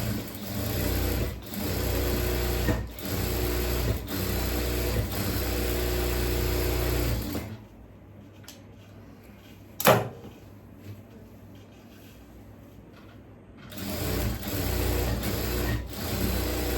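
Sewing machine stitches the yoke neck of a churidhar, running loud and steady for several seconds, falling silent with one sharp tap, then starting again.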